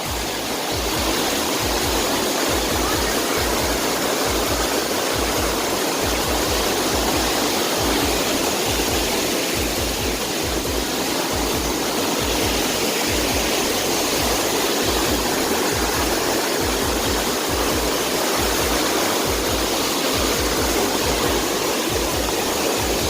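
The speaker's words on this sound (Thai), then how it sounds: "ดูความสวยงามของน้ำตกชั้นแรกนะครับ" Steady, loud roar of falling water at the first tier of Krathing waterfall, a dense continuous rush heard up close with no voices.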